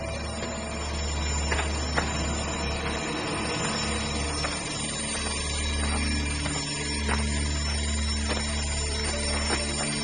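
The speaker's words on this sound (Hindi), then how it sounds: "स्टोर रूम में रखे एक डब्बे से अलार्म क्लॉक बजने की आवाज आने लगी" An alarm clock rings out from a box in a store room as part of a horror story, a steady mechanical ringing that runs through the whole stretch over a low hum, with no speech.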